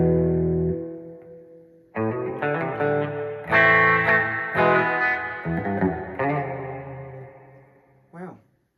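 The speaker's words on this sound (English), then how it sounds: "That is a lot of reverb." An electric guitar through a Boss Katana amp with reverb turned fully up plays held chords and single notes that wash into long, dense reverberant tails, ending with a brief pitch-bent note.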